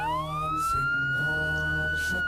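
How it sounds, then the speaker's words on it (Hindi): A police jeep siren wails steadily with a rising tone that holds high, loud and continuous amid a quiet hillside setting, with a low rumble underneath. "तभी पहाड़ियों की खामोशी को चीरती दूर से पुलिस जीप के सायरन की चीखती आवाज गूंजी।"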